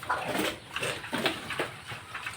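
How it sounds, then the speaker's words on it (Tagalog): Large farm pigs grunting and snorting in a few short, close bursts, with no talk over them. "mga baboy natin dito medyo malalaki na sila"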